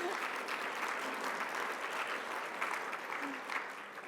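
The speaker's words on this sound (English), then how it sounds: "let's clap for Dr. Mayo" Conference audience at a cancer meeting claps for a speaker, a steady, moderately quiet patter of many hands sustained for a few seconds with faint room murmur beneath.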